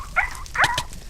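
Dog-like yelps from a creature in a Minecraft-style sky PvP game, two short bursts in quick succession, fairly loud and with no talk over them.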